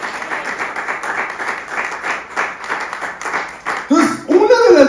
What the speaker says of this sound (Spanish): Denle fuerte las palmas al Rey.